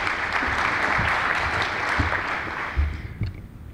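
An audience at an energy summit claps after a speech line, a broad wash of many hands that holds steady and then thins into a few scattered claps near the end.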